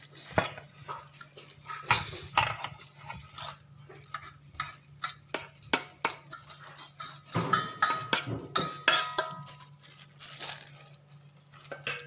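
Ground Balinese spice paste being mixed with other ingredients in a bowl, irregular wet slaps, scrapes and utensil clinks in uneven bursts, close and fairly quiet over a low steady hum.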